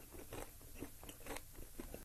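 Crunchy bites into white chocolate with dried tangerine pieces, several quiet, close crisp crunches in quick succession with no talking.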